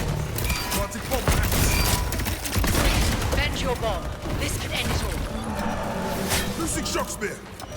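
Dense gunfire in the video game Highguard, a loud continuous fusillade of shots and impacts layered with game effects, with a voice talking over parts of it.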